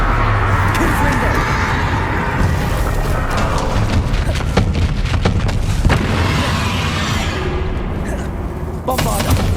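Loud booming blasts of the Confringo fire spell in Hogwarts Legacy go off amid constant combat noise, with a character shouting spell names over the impacts.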